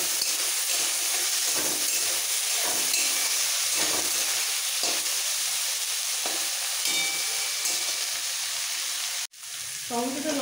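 Chopped onion, small green chillies and chopped tomato fry in a pan for a masala dal, giving a steady close sizzle with soft stirring scrapes and a brief clatter near the end; no one speaks.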